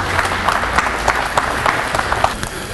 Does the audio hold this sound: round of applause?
yes